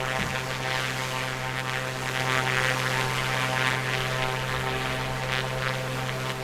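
A2A Comanche propeller plane in Microsoft Flight Simulator 2024 climbing after takeoff, a steady loud engine drone with a strong low tonal hum and a whooshing airflow layer, continuous and close.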